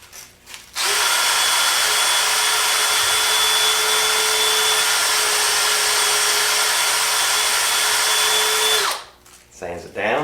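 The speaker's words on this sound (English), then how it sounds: "To sand our dowel down, I'll stick it in my drill" A steady, loud whirring of a power drill spinning a wooden dowel runs continuously for several seconds, with a scratchy abrasive hiss of sandpaper against the dowel layered on top, then cuts off.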